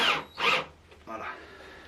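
A power drill drives a screw in a beekeeping workshop, with two short whirring bursts followed by a lower grinding spin as the screw seats.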